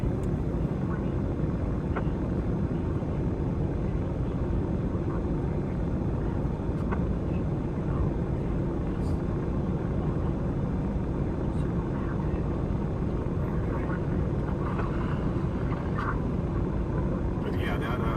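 A faint, distant helicopter drone hums steadily overhead as a low continuous rumble, with occasional soft clicks nearby.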